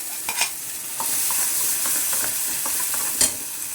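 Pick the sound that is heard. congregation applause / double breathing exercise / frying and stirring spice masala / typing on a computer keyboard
frying and stirring spice masala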